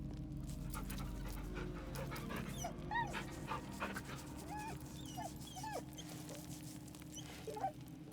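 Dog panting and whimpering in Baldur's Gate 3 video game, a steady close panting with soft high whimpers scattered throughout, fairly quiet, with no talk.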